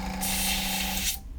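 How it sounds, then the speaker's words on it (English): Airbrush spraying paint onto a wooden dragon in a garage: a steady close hiss of air and paint that starts sharply, holds for about a second, then cuts off, over a faint low hum. "I'm just spraying everywhere."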